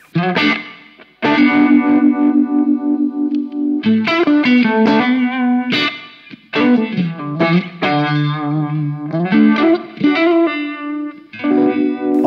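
Distorted electric guitar played through a modulation effects pedal, mildly overdriven, strumming chords and picking short melodic runs with a warbling chorus-like shimmer, loud and continuous with brief pauses between phrases.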